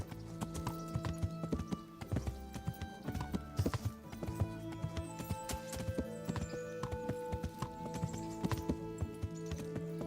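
Horse hooves clip-clop steadily in Kingdom Come: Deliverance, a dense run of hoofbeats lasting throughout alongside a background music bed, with an occasional faint whinny.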